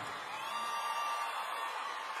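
Live audience at a Brazilian sertanejo duo's show applauding and cheering, a steady crowd wash of clapping and voices held evenly throughout.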